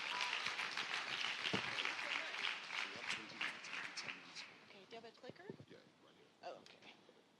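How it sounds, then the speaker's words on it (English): A conference audience at an autism event claps to welcome a speaker, quiet and distant applause that gradually thins into scattered claps and light rustling. "please, with a warm round of applause, welcome Nadia Hamilton"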